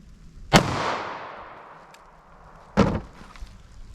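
Two sharp 9mm Remington Golden Saber gunshots fired into ballistic gel, loud cracks about two seconds apart, each followed by a decaying outdoor echo.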